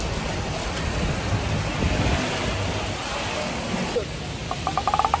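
Heavy rain pours on a Bangkok street, a loud, constant roaring wash like surf, ending with a few quick rhythmic taps.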